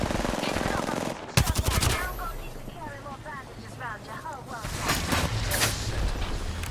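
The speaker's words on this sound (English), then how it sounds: "Getting shot at." Video game gunfire: rapid automatic bursts and single shots crackle loudly amid a busy combat soundscape with game voice lines and effects, continuing in intermittent volleys throughout.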